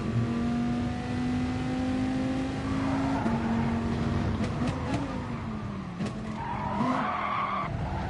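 A race car in a racing video game braking into a corner, tyres squealing and skidding under a steady engine drone, loud and continuous with a pitch drop as it slows, no talk.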